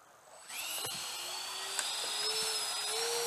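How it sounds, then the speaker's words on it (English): A Freewing AL-37 electric RC jet on its takeoff run down a runway, its ducted fan spooling up sharply into a high, steady whine with rising tones, fairly close and without talk. "It just... tracks pretty well right down the runway. All right, here goes Andy."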